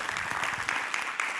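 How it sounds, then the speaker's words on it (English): Short burst of audience applause at a documentary festival Q&A, steady dense clapping at moderate volume with no talk over it. "can we just have a round of applause for Heather and for her dad?"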